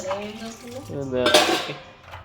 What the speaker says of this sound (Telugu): లక్ష్మి గిన్నెలు దొరుకుతున్నావా